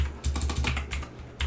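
Quick, rapid keystrokes on a computer keyboard as Java code is typed in, a dense close-up burst of clicking with a short pause just before the end.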